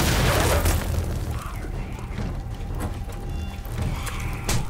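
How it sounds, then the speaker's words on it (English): Blunderbuss shots boom in the video game 7 Days to Die, with a heavy blast at the start and another near the end over a dense, rumbling game soundscape. "As I hear blunderbuss. Yes, shots."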